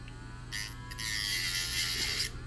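A small electric grinder whirs against a SMOK NORD vape pod being repaired for a leak, a steady buzzing hum that starts and stops in short bursts over a low background drone.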